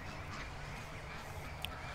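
Young and adult ducks quack and chatter in a flock over a steady, noisy background, the calls blending into a continuous low hubbub with one sharper note standing out, without any voices.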